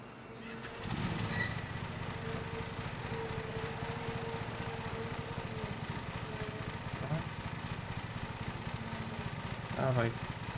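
A lawn mower engine from the Lawn Mowing Simulator video game drones steadily and close throughout, with a sustained mid-pitched hum, a brief swell near the start and a small bump near the end.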